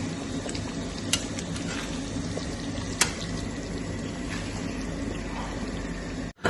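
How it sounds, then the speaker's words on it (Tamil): Water boils in a pot for cooking biryani rice, a steady bubbling hiss with occasional clinks of utensils, close and moderately loud, with no one speaking. "ரைஸ் தண்ணி நல்லா பாயில் ஆகுதா"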